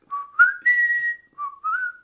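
A person whistles a film theme, a clear solo tune of a few sustained notes with brief pauses, loud and close with no talk.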